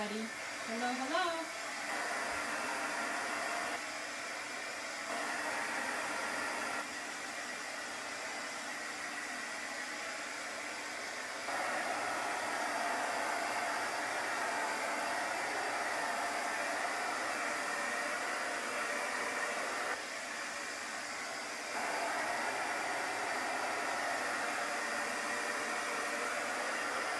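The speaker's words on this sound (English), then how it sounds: "Get this nice and dry." A hair dryer dries chalk paint on a wooden sled up close, giving a steady, loud blowing whir that runs almost unbroken for the whole stretch, with small shifts in level as it moves.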